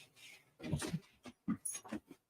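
Dog whimpering and making short whiny vocal bursts near a table indoors, several faint close-up sounds in an uneven pattern with quiet gaps between.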